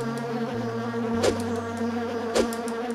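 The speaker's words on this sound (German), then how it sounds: "Das sind auch irgendwelche Wespenviecher." Wasps buzz in the PlayStation game Alundra 2, a steady insect drone layered with low synthetic tones, punctuated twice by sharp hit-like bursts.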